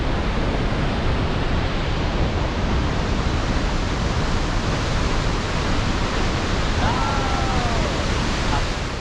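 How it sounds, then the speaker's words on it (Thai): Tad Fane waterfall in Laos roaring as a steady, loud broadband rush of falling water that fills the whole stretch, with a faint voice briefly audible near the end. "อยู่ที่น้ำตกตาดฟานนะครับสปปลาว"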